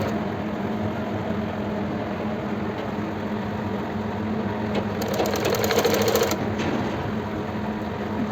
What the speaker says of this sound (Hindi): और इस तरह से स्टिच लगाते जाएंगे